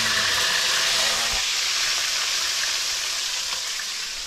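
Four pieces of talakitok fish sizzle in hot frying oil, a dense, steady crackling hiss that holds loud and close and fades slightly toward the end.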